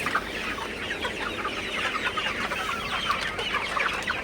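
Sonali chickens, 56 days old, cluck continuously in a poultry shed, a dense, close chorus of overlapping calls with no pauses.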